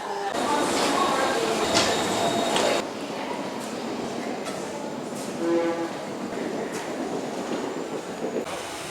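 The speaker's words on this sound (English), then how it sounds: "our train is going off into the distance" A train rumbles away in a busy SNCF station in France, its noise fading as it pulls off, with scattered voices and station clatter around it.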